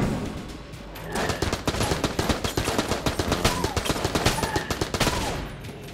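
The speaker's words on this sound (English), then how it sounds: "Let's try out the submachine gun first." A submachine gun fires in the video game Enter the Gungeon in long, rapid, loud bursts of shots that run for several seconds, with a few game effect tones underneath.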